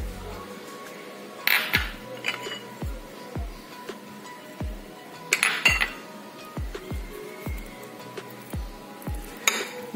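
Spices being mixed together in a dish for mini chicken fry, heard as a run of close metal-on-metal clinks and scrapes in an irregular rhythm, a few louder bright clanks standing out, with no talking.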